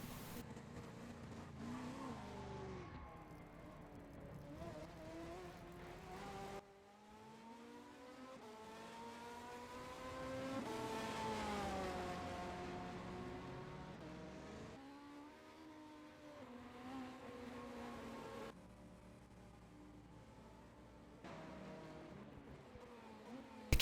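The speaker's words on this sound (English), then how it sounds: "I believe that's a Fantech Drake racing car." A Fantech Drake racing car's engine in a 24 Hours of Le Mans racing game, nearing Mulsanne corner: a steady revving drone that climbs and falls through gear changes, loud and sustained throughout.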